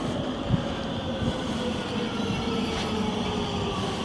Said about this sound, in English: Here comes the next metro to the Terp.